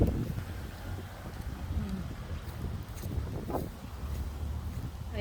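Gusty wind buffeting outdoors near the sea, a low rumbling roar with microphone buffeting, faint background sounds underneath.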